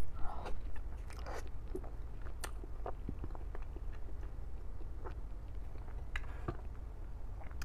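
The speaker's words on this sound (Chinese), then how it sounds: "第一口永远是最好吃的。" Bites into a chocolate lava cake come as sharp, close crunches and soft squishy chewing, repeated irregularly at near range with no talking.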